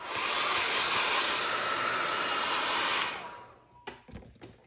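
A hair dryer blows on a paint layer of a mixed media artwork, a loud close steady airy rush for about three seconds before switching off, followed by a few soft handling clicks.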